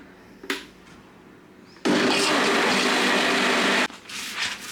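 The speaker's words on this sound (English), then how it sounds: "Now blend it till everything is combined and is fluffy." Kitchen blender whirring through banana cake batter, a steady loud motor roar lasting about two seconds that starts and stops abruptly, with quieter handling sounds on either side.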